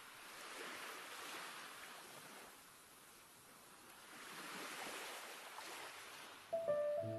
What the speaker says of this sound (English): the waves were billowing higher and higher beneath a threatening sky